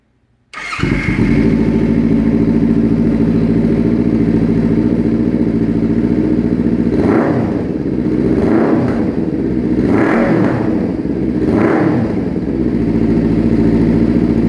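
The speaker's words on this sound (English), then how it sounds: "crank it up and stuff so y'all can hear the exhaust" Kawasaki Ninja 300 motorcycle exhaust idling loudly and steadily up close, then four sharp throttle revs rise and fall in the second half, each climbing and dropping back to a rumbling idle.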